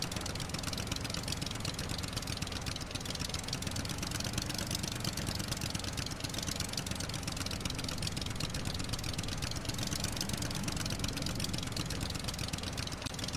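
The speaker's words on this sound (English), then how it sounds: "Stop engine." A boat engine idles in the survival video game Stranded Deep, a steady, unbroken mid-pitched drone that holds at even loudness throughout with no talk.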